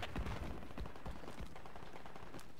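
Gunfire in the tactical shooter game Project Reality during a clan match, a dense, rattling spread of distant shots and impacts under steady background noise.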